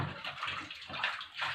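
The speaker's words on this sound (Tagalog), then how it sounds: "Lagyan natin ng tubig ang palanggana." Tap water runs steadily into a basin being filled for rinsing glassware, a continuous gushing splash with no talk over it.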